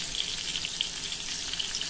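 Green peppers stuffed with meat frying in a nonstick pan of oil at medium heat, giving a steady, close, even sizzle with fine crackling pops and no talking.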